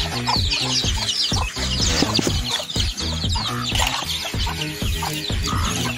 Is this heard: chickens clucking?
yes